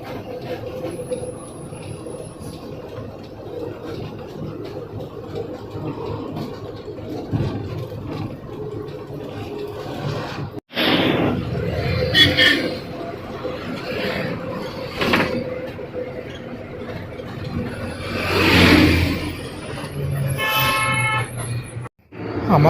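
Vehicle travelling along a highway past Ahmedabad, a steady engine and road rumble throughout with a loud thump midway and several horn toots near the end.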